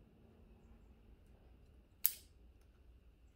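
A single sharp snip of pruning shears cutting a branch while a pomegranate bonsai is trimmed, one crisp close cut in an otherwise quiet setting.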